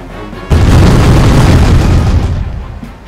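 Heavy cannon fire in the East India Company video game: one loud, deep boom with rumbling artillery blasts that sustain for several seconds before tailing off, no talk over it.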